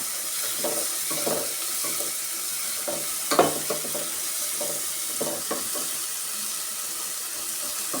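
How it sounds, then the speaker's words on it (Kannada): Steady sizzling of spices frying in hot oil for a mung bean gravy, with occasional scraping stirs of a utensil against the pan; no voices. "ಈ ಥರ ಚೆನ್ನಾಗಿ ಫ್ರೈ ಮಾಡ್ಕೊಬೇಕು"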